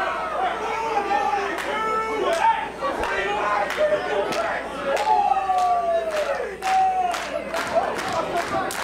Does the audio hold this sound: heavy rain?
no